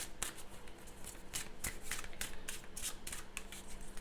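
Tarot cards being shuffled by hand in a series of quick riffling bursts, close and steady, with no talk over them.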